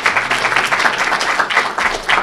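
Loud, close applause at a university social work graduate hooding ceremony, a crowd clapping in a busy, steady rhythm as a graduate is called up.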